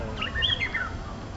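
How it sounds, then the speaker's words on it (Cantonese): Flying foxes flying overhead give a brief high chirping call, a few quick squeaky notes at moderate distance over a low background rumble. "咁我哋咧都繼續會聽到有好多雀仔聲啊"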